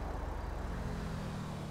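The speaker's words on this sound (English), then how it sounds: "These cars get by here." A car in Grand Theft Auto V rolls past nearby with a low, swelling road rumble that eases off as it goes, heard faintly with no talking.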